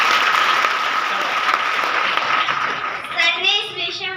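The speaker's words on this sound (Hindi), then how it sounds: "देखो ताली बजाओ।" Children in a school setting clap together in a dense, steady round of applause lasting about three seconds, tapering off as a voice begins to speak.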